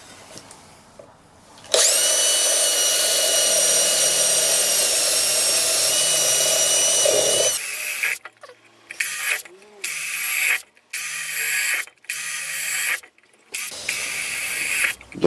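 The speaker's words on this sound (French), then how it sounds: "Donc c'est parti pour le perçage." A power drill bores holes through a thin metal can for a wood-burning camp stove, first one long steady whine, then a run of short drilling bursts separated by brief pauses.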